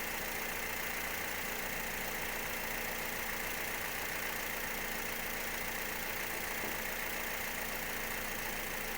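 Toyota Vios engine idling after a two-and-a-half-minute warm-up on BP Ultimate fuel, a steady, even hum with broadband hiss that holds without change throughout, no voices.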